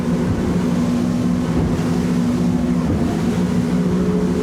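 A Wellcraft 28 T-Top motorboat engine drones loudly and steadily over broadband water and wind noise as the hull slaps through choppy waves, with no voices.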